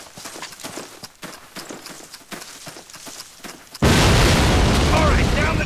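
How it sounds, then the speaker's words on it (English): A cannon fires in the Call of Duty video game, a sudden loud boom at about four seconds that sustains as a dense roaring blast, following a stretch of quieter clattering battlefield sounds and talk. "This cannon's about to go boom."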